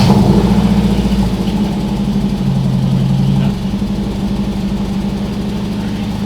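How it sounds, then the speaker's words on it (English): A Nissan 240SX S13 engine runs loud and close in a steady, rough, lumpy idle, with a slight change in tone about halfway through and no talking over it. "we should be ready to fire this thing up and see if the wheels move."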